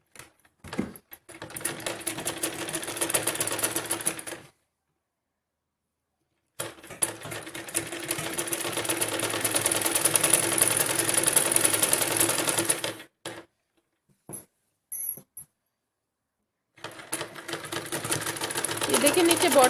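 A sewing machine stitches a fancy gown in long rapid bursts separated by pauses, loud and close, with the mechanical rattle stopping and starting several times.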